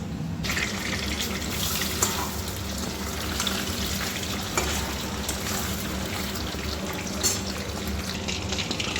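Chicken pieces fry in hot oil with a steady, dense sizzle and occasional crackles, continuous and close.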